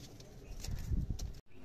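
Pigeons cooing in a coop with homer pigeons, low throaty rolling coos repeating close by in a steady rumble, with faint chirps overhead, then a brief dropout.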